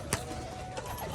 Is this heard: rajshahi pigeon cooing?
yes